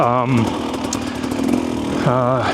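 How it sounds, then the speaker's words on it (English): Husqvarna TE300 two-stroke motorcycle engine on a 2025 model, gurgling and burbling unevenly at light partial throttle, close and fairly loud, with someone talking over it at the start and end. "It's a little bit gurgly."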